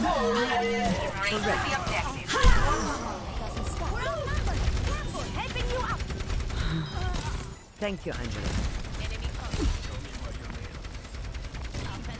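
Rapid bursts of rocket-barrage gunfire sound in the video game Overwatch 2, dense and continuous under overlapping voices talking and shouting.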